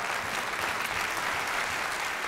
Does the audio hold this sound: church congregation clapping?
yes